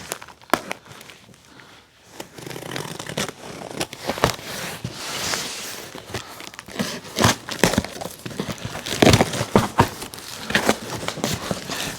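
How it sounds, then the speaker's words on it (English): A knife slices open nylon tent bag packaging, giving close, soft crinkling, scraping and tearing sounds in uneven bursts, with plastic rustling between cuts and no talk. "easy with my knife as I open this. I don't want to cut any of the nylon."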